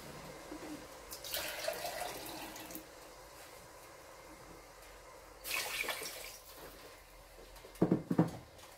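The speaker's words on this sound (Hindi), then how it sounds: "अब हमने इसके अंदर शामिल कर देना है पानी।" Water poured into a cooking pot of fried chicken for pulao, with bursts of splashing and running water between quieter stretches, close by and without speech.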